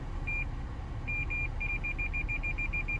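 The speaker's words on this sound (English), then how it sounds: "You'll hear the beep as well too" A 2016 Toyota 4Runner Limited's reverse parking sensor chirps steadily while backing toward parked vehicles, starting with spaced beeps and quickening into a rapid even series over a low engine rumble.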